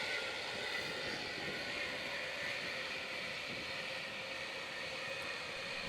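Racing karts circle at Little Rissington on a formation lap, heard as a faint, distant, continuous engine drone that stays even throughout, with no voices.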